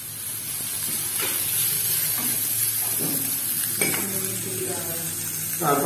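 Chopped cabbage sizzles steadily in a pan with a constant hissing fry, broken by a few soft scrapes and clinks of stirring.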